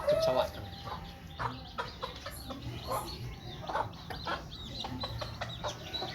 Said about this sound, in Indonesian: Ini ayam masih mencari makan